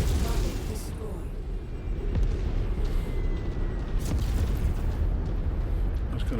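A destroyed target mech explodes in MechWarrior 5, a deep rumbling boom with crackling debris and low thuds rolling on for several seconds beneath battle noise, with sharp impacts near the two- and four-second marks.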